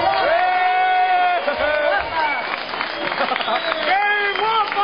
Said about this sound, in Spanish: un fuertísimo aplauso al mejor pianista del mundo, a Penny.